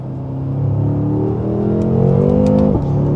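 BMW M5 F10 Competition accelerating hard, its engine note climbing loud and close in a rising growl, then a brief dip at a gear change before pulling on.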